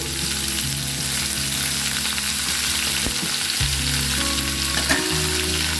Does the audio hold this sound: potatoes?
yes